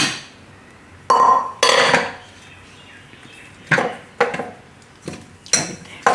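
Washed raw bananas dropped into a metal pressure cooker in a home kitchen, several sharp clunks and clatters spaced apart, close and loud against a quiet background.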